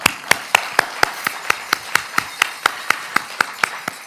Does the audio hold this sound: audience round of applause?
yes